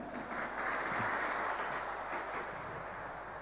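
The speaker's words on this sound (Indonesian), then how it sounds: "Bangun, berikan tepuk tangan." A large audience at a religious lecture breaks into sustained applause, a dense, even wash of clapping heard from within the crowd, with no talk over it.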